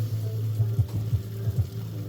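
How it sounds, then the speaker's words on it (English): Food frying in a pan while being stirred, with a steady low sizzle and several soft scraping stirs at an even pace, close and alone with no talk. "Okay, I'll stir that up"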